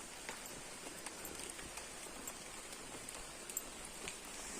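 Rain falls in the countryside as a faint, steady patter with scattered individual drops and light taps, heard alone and without voices.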